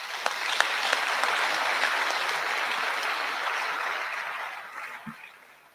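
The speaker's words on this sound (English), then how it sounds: "I think you deserve another round of applause." Audience at an induction ceremony for newly inducted medical and dental practitioners applauds steadily, a moderate wash of many hands clapping that gradually thins and fades.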